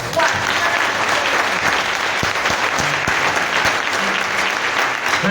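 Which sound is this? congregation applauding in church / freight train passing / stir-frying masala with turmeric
congregation applauding in church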